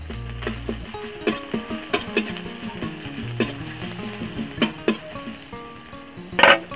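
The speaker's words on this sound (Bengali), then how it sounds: "পেঁয়াজটা একটু তেলে ভালো করে ভেজে নেই, তারপরে আমি আদা রসুনের বাটা দেব।" Onion fries in oil with garlic paste added, giving a continuous close sizzle. Repeated spatula scrapes and clinks on the pan punctuate it, and a sharper burst of crackling comes near the end.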